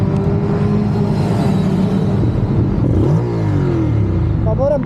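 Motorcycle engine revving loudly and close up, a heavy continuous rumble whose pitch swells and climbs partway through, with no one talking over it.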